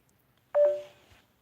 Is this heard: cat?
no